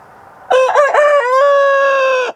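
A rooster gives one loud, close cock-a-doodle-doo crow of about two seconds, with a wavering start and a long held final note, among chickens on a farm.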